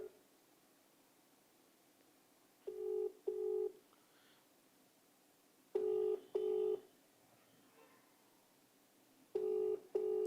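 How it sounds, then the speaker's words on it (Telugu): An outgoing phone call rings back on the line three times in paired tones, with long quiet gaps between each pair, clear and close over faint background hiss. "ఫోన్ చేద్దాం ఒకసారి"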